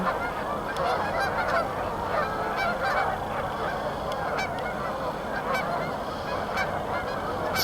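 Many geese honk without pause in a large flock at a wilderness park, their overlapping calls blending into a steady, fairly loud chorus with some individual honks standing out.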